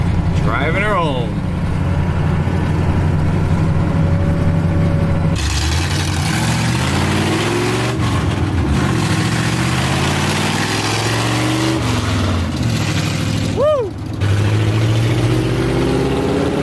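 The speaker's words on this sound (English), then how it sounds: "The truck runs good. It's incredibly loud, just the way she wanted it." A 1978 Dodge Power Wagon truck fitted with long tube headers idles loud and rough, a steady low rumble with a blip of revving, running continuously under voices talking nearby.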